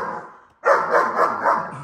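A trained police K9 barks in a rapid series of loud, close barks after a brief silence, a gang-attack training drill setting with no talk over it.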